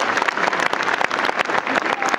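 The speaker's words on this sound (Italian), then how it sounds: "Un applauso di incoraggiamento ci vuole." An audience at an outdoor cabaret show during a town festival gives a loud, dense burst of applause, continuous clapping close and full for the whole stretch.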